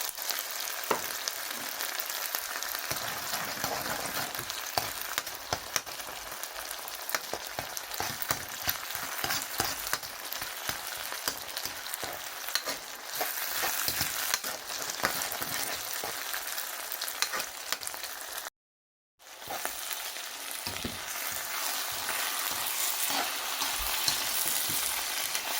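Egg fries beside vegetables in a pan for shrimp fried rice, a dense, steady crackling sizzle with stirring scrapes, close and continuous apart from a brief silent gap.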